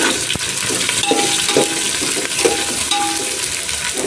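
Sliced onions and green chillies sizzle in hot oil in a pan for chicken biryani, a loud, steady frying hiss with a few stirring clinks and scrapes.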